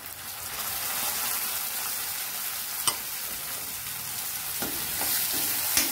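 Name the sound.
tomatoes frying in a pan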